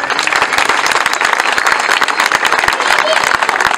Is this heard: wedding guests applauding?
yes